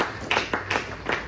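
A church congregation claps in a quick run of four sharp claps spaced about a quarter second apart, moderately loud and fairly close, with no speech over them.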